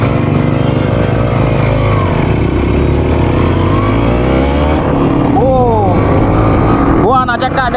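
A restored Kawasaki RR150 two-stroke motorcycle on a test ride, engine loud and close with a sustained buzzing drone, then sharp revving surges as the rider shifts through gears.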